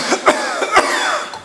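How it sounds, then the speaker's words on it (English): A few sharp, deliberate coughs in close succession, loud and near, with a short ringing tail after the last. "Cough it out, like that."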